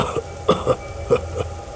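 A short run of several quick, rough coughs in close succession, fairly close and clear, with no talking.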